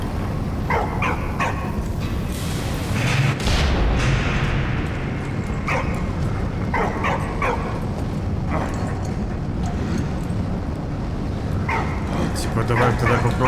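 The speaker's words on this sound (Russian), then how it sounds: "Ой, собакен!" Dog barks and yips in the World War I video game Valiant Hearts, several short bursts scattered over game music and ambience while someone talks over them.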